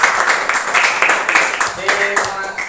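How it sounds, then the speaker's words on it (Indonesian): A classroom breaks into applause for a group presentation, dense close clapping from many hands that pulses unevenly for a few seconds. "jadi tepuk tangan dulu"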